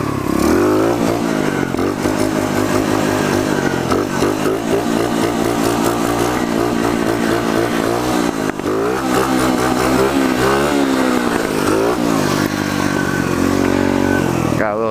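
A pit bike engine revs loudly and close while riding in first gear, the rasping drone climbing and dropping in repeated pulls throughout.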